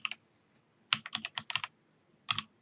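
Quiet, close-up keyboard typing: a few scattered keystrokes, then a quick cluster of clicks and a final pair of taps.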